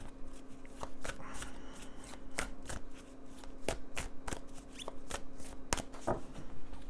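Oracle cards are shuffled by hand in a quiet room, giving repeated crisp riffling snaps and light slaps at an uneven rhythm, faint and close, with no speech.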